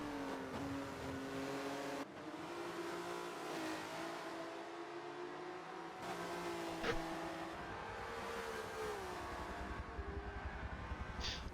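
A Volvo touring car in a sim racing game at Bathurst drones at high revs, its engine note dropping and rising as it brakes hard into a chicane and accelerates out, loud and steady throughout without talk.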